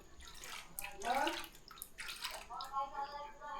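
Warm water splashes and sloshes around a dog's hind legs as they soak, in uneven bursts close to the microphone, with a voice talking over it.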